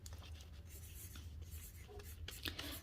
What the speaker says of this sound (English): And I'm going to write this down for me to see.